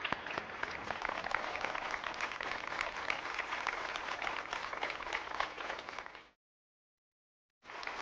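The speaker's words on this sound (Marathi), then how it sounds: "टाळ्या वाजवून शुभेच्छा" Studio audience applause greets contestants on a Marathi TV game show: dense, even clapping that carries on for about six seconds, drops to silence, then briefly resumes.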